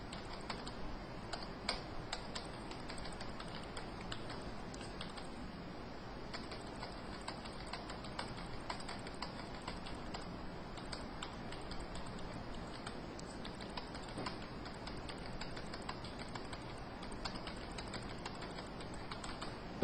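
Keys on a computer keyboard tapped steadily while numbers go into an Excel spreadsheet, a quiet, continuous stream of light clicks running for about twenty seconds with no talking.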